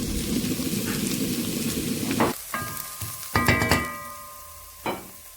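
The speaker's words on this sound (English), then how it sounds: "I'm adding my olive oil, then my onions" Onions drop into hot olive oil in a pan, giving a steady sizzle for the first two seconds that then breaks into scattered clinks and scraping stirs with fading frying underneath.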